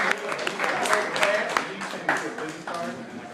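An audience at a producers showcase in Atlanta claps as a producer comes on stage, a scattered round of applause that rises and thins while a voice talks over it and some hip-hop music plays.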